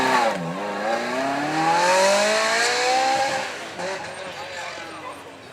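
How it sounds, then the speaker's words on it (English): A V8 Ferrari supercar at a supercar weekend at Beaulieu, loud and near, its engine revving and accelerating in a rising, then falling whine with gear changes before easing away. "The V8 Ferraris."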